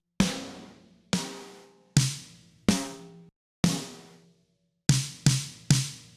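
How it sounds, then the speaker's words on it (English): Deep, down-tuned, beefy snare drum sample played as single hits, eight strikes in an uneven pattern, each a sharp crack with a booming body that rings out and decays before the next. "I think I know where I can find a really down-tuned, beefy snare"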